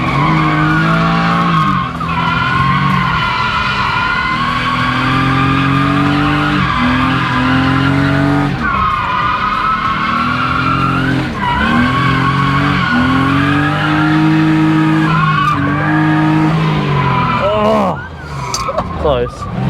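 A car drifts around a track with long, loud tire squeals, the engine revving up and down in repeated waves as it slides through corners.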